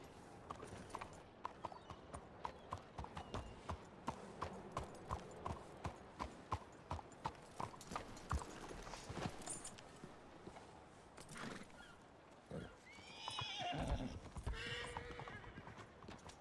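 Horse hooves clip-clop steadily in Red Dead Redemption 2, a regular walking rhythm that runs through most of the stretch, then a whinny rises clearly near the end.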